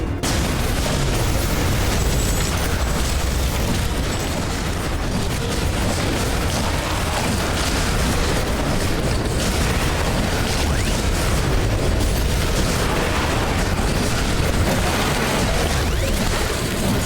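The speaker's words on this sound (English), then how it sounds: "One of our buildings has been destroyed." Explosions destroying a base building in The Riftbreaker video game: a loud, dense, sustained roar of blasts and crackling debris running without pause, no voices present.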